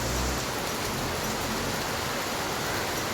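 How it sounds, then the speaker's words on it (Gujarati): Heavy unseasonal rain falls in Mumbai as a dense, unbroken wash of broadband hiss, loud and constant through the whole short stretch, with no voices or other sounds standing out. "વરસાદ રૂકવાનું નામ જ નથી લેતો."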